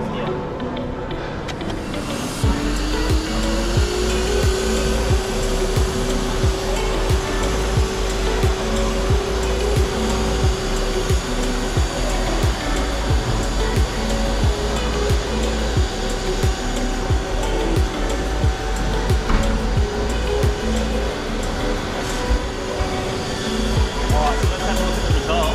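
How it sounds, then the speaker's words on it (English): A Vacumi dust mite vacuum cleaner switches on after a couple of seconds and runs with a steady, even whir over a carpet tile, accompanied by faint scraping as it moves. "what we're going to do now is just do a quick 60-second vacuum"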